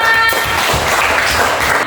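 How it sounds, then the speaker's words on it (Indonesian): A classroom group gives a round of applause, a dense, steady patter of many hands clapping close by for nearly two seconds. "beri tepuk tangan pesona ala Indonesia"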